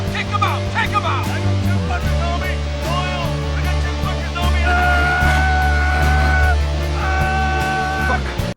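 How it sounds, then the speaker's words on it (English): A person screams loudly and at length, as if under attack by zombies, the sustained shrill cry filling the whole stretch with strained, wavering pitch over a dense, noisy backdrop. "that's a really convincing scream. I definitely believe that you're being attacked by zombies right now"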